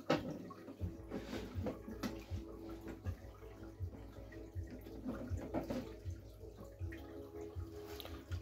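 Water runs from a freshly opened hose nozzle in a steady, soft rushing stream, with small splashy fluctuations, quiet and close, no one speaking.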